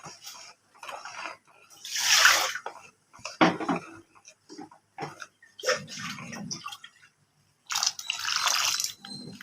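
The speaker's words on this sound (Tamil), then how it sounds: "சுட தண்ணி தான் ஊற்றணும்" Hot water poured into simmering Kumbakonam kadappa gravy in a cooking pot: several splashy pouring bursts with pauses between, close and moderately loud, with clinks of a pan.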